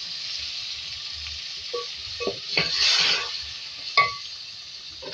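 Chicken frying in a pan with red chilli, onion and tomato, a steady close sizzle with bursts of stirring and a few clinks of a utensil against the pan, no talking.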